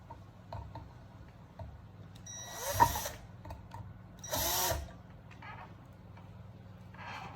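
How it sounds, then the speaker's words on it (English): A power drill tightens screws on a Modern Forms Tip Top smart ceiling fan: two short whirring bursts stand out against an otherwise quiet room, with a few light ticks between them. "We will tighten the screws back."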